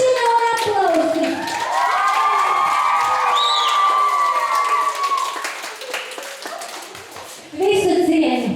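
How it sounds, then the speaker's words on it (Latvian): A school crowd at a student pageant whoops and applauds, with shrill cheers and voices over scattered clapping, loud and sustained and surging again at the end. "Kliekšana un aplausi!"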